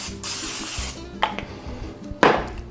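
Cooking spray hisses into a pan in one steady burst lasting about a second, followed by a few light clinks and scrapes of kitchen handling.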